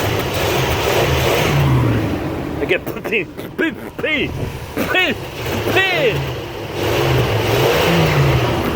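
The engine of an RV with an open engine bay revs in several quick throttle blips, rising and falling over a steady idle, while someone talks nearby.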